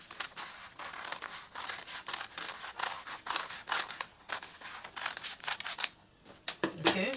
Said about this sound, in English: So I'll just cut it out.